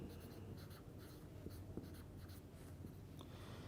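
Marker or chalk scratches across a board during a chemistry lecture in a short run of quick, close strokes, with slight pauses between letters and no speech.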